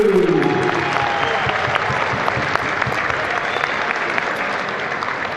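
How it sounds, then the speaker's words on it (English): Basketball crowd in a high school gym applauds the game officials before a boys' varsity game, steady sustained clapping with scattered cheers filling the hall throughout. "So what do you say we start out tonight by giving these guys a round of applause and tell them thank you?"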